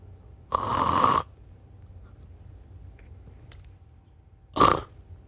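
A voice imitates snoring: a long, rough, rattling inhale, a pause of near silence, then a shorter snort.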